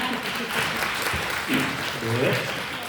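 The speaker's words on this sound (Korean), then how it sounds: "박수 부탁드리겠습니다." An audience at a community welfare center's 25th anniversary ceremony claps, a moderate, even stretch of applause with voices mixed in underneath.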